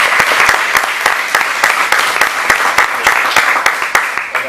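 Audience applause at a lecture in Paraná, Entre Ríos, a dense steady patter of many hands clapping with sharp individual claps standing out, loud and close, continuing throughout without speech.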